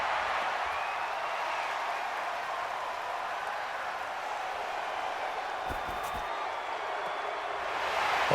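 A football stadium crowd roars steadily at a Los Angeles Rams versus Arizona Cardinals NFL game as a big third down approaches, a broad, sustained wash of cheering with a few brief sharper bursts and a swell at the end.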